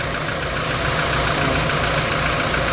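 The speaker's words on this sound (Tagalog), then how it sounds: "Yan ang tunog ng makina, oh." An old car engine idles with a steady, continuous low rumble and drone that holds even throughout, close by, with no talking.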